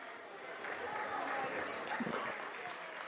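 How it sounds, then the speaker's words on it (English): A crowd at a varsity high school wrestling meet claps steadily for a wrestler. The applause is a sustained wash of noise with faint voices underneath. "gets a hand from the crowd"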